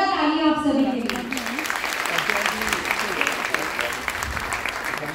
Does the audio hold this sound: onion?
no